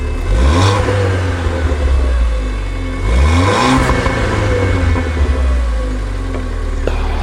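A Ford hatchback's engine revs up sharply twice, the pitch climbing and falling back each time, loud and close with no talking.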